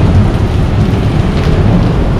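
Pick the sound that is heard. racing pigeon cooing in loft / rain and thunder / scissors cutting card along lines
rain and thunder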